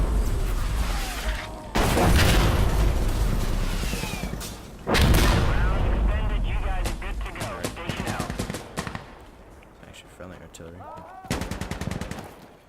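Artillery and gunfire in the video game Insurgency Sandstorm: heavy booming blasts and dense rattling automatic fire, loud and continuous, with bursts swelling and fading and a rapid volley near the end.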